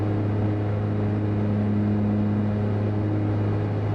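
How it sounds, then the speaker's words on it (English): Twin engines of a Cessna 404 Titan in Flight Simulator X drone in a loud, steady, low cabin hum with a constant pitch and no talking. "Very loud engines."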